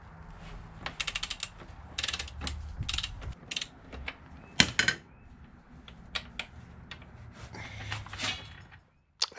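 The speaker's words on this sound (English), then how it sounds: "So I'm backing the adjusters off as far as I can. And then loosening the axle all the way." Wrench ratcheting in quick bursts as chain adjusters are backed off and a motorcycle rear axle is loosened, with clicking, metallic clanks and tool knocks up close in a garage.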